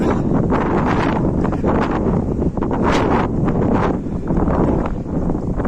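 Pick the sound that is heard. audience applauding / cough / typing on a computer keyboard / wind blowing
wind blowing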